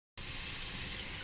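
Mutton liver (kaleji) frying in hot oil until the oil separates and rises, giving a steady, close, loud sizzling hiss that starts abruptly after a brief silence and holds evenly throughout with no voices.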